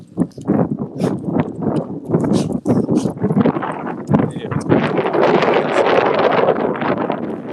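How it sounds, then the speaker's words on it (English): Heavy wind buffets the microphone in loud, irregular gusts, building to a constant roaring rumble. "I know it's windy, but usually at least people can hear me a little bit."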